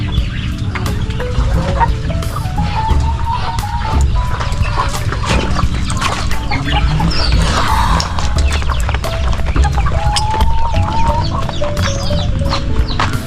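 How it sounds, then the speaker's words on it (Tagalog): Pet chickens on a backyard poultry farm cluck and call steadily throughout, several birds close by with repeated short clucks and rising calls over a busy low farmyard rumble, no talking. "Ito rin po manok."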